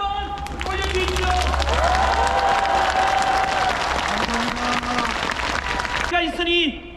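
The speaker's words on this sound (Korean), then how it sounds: "감사의 뜻으로 박수를 한번 올려주십시오" A large outdoor rally crowd in a park in front of the National Assembly in Yeouido, Seoul, breaks into sustained, dense applause and clapping, loud and steady for several seconds, with a speaker's amplified voice and crowd chatter mixed in.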